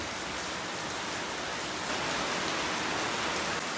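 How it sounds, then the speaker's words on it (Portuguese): Steady water spray falling over a headlight being wet-sanded at home, a dense even hiss that holds constant throughout with no voices. "Nossa, agora cai a chuva, hein?"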